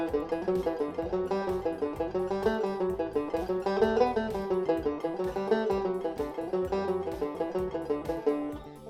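Guitar picking a single-string exercise through the scale modes, a continuous, evenly paced stream of plucked notes rising and falling in pitch, played alone and ending with a fading final note.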